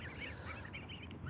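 Month-and-a-half-old ducks kept indoors quack in faint, soft, overlapping bursts against steady low background noise.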